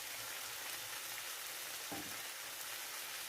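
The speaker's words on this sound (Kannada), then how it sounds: "ಈಗ ಬೇಯಿಸಿದ ಬಸಳೆ ಸೊಪ್ಪು ಮತ್ತು ದಂಟನ್ನು ಸೇರಿಸಿ ಚೆನ್ನಾಗಿ ಮಿಕ್ಸ್ ಮಾಡಿ." Boiled Malabar spinach leaves and stems frying in a pan, giving a steady, soft sizzle throughout with one brief stir or scrape midway, close and fairly quiet, no voices.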